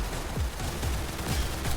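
Rapid gunfire crackles through a Counter-Strike-style Roblox shooter match, a dense stream of shots over a constant noisy game background, with no speech.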